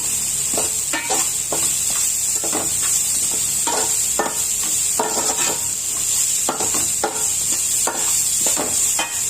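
Added seasonings are tossed into sweet corn fried rice in a hot pan: constant close sizzle with regular, rhythmic scraping and clanking of a spatula on the pan, no talking.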